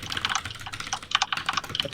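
Computer keyboard typing, with rapid irregular clacking keystrokes close to the microphone, steady throughout with no speech.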